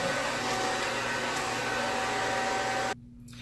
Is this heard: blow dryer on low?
yes